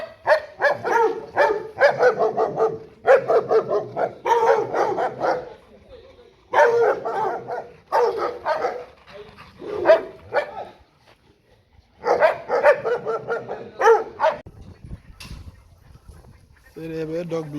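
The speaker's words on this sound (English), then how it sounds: "Your Rottweiler." A Rottweiler barks in repeated loud bursts close by, with voices talking between and over the barks.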